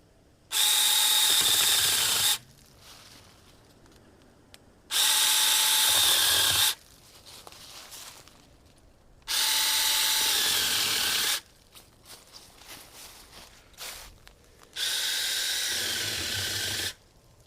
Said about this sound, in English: another way we like to use these little saws is to mark out our logs when we're cutting them into firewood